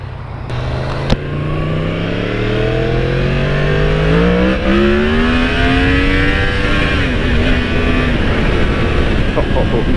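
A 2018 Yamaha MT-10 motorcycle engine revs hard through the gears during a wheelie, a loud, steady roar with rising and falling pitch sweeps that stays close throughout, wind rushing over it.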